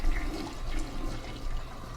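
A toilet flushes in the video game Sleeping Dogs, a steady, full rush of water that holds for about two seconds with a brief swell near the end.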